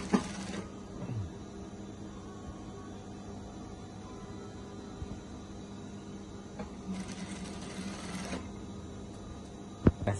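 A sewing machine stitches the side seam of a modern baju kurung in a continuous hum with short whirring bursts at the start and again near the end, close and moderately loud, with no talking.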